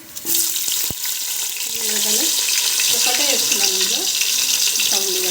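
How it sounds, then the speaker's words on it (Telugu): Vegetables and shahi jeera frying in a pan: a steady hiss and sizzle runs throughout, with a brief clatter near the start and a voice speaking over it. "ఇవి వేగనిద్దాం షార్జీరాన్ని వేసేసాను అందులో"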